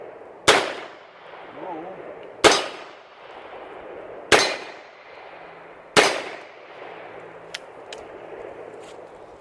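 Four loud, evenly spaced shots from an 8mm Label 1898 revolver fired at a steel cylinder target outdoors, each with a sharp crack, a ringing metallic tail and a fading echo, followed by a few faint clicks.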